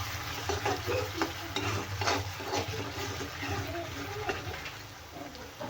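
A spoon stirs and scrapes through an onion-tomato masala with green chili and turmeric in a pan. It sizzles steadily, with repeated stirring strokes and faint talk in the background.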